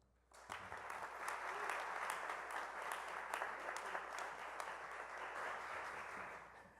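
A round of applause at a chapter meeting release show, dense clapping starting abruptly after a brief quiet moment and continuing steadily, fairly close, then tapering slightly at the end.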